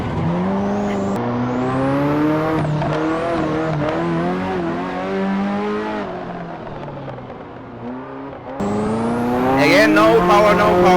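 A Ferrari F40 engine, rear-wheel drive, revs hard during drift practice. Its loud, close, onboard roar sweeps up and down through the gears, dips briefly, then surges back louder with high whining tones.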